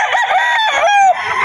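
A gamecock rooster crows loudly and close by at a pet market in Bocaue, one strained, drawn-out call lasting just over a second.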